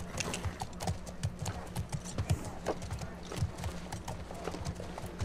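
Horse hooves clip-clopping in The Last of Us Part II video game, a steady quick trotting rhythm continuing throughout, with occasional faint snorting and light ambient background.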